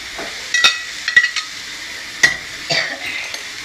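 Crabs frying in plenty of oil in a pan for a crab curry, a soft steady sizzle broken by several sharp clinks and scrapes of a spoon against the pot, with no voices.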